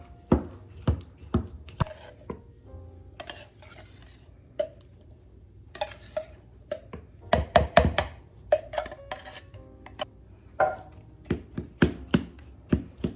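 A knife chops apple pieces on a cutting board for a caramel apple dump cake, giving irregular sharp taps in short bursts with pauses, close and fairly loud, with no talking.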